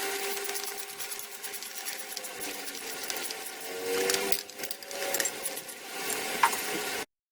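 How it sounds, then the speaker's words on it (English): Metallic scraping, clicking and rattling of a trim tab being worked loose from the gearcase of a 1973 Johnson 50 HP outboard, steady and close with a few sharper clinks and no talk. "Alright, now I gotta pull out this trim tab."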